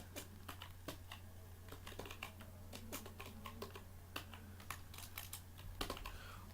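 Close computer keyboard typing while filling in text fields, a steady stream of crisp, irregular key clicks over a constant low electrical hum.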